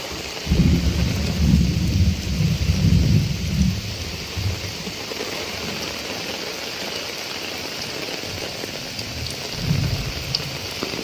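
Heavy rain with thunder in Kozhikode: steady loud rainfall throughout, with deep rumbling thunder rolling early on and another low rumble near the end, no voices.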